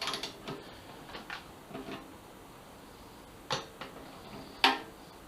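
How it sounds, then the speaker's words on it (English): Torque wrench ratcheting while tightening fuel pump bolts on a 2007 Suzuki GSX-R 750, heard as scattered light clicks and a few sharper ratchet snaps, close and fairly quiet with no talking. "though this looks like a big torque wrench, it actually goes to 7 foot-pounds"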